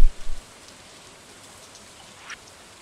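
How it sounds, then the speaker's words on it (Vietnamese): Rain falling in the video game Stardew Valley, a soft, even hiss of steady rainfall that continues throughout, opened by a few low thumps and interrupted by one brief higher blip near the end. "Ở đây mưa đúng rồi, mưa thật rồi."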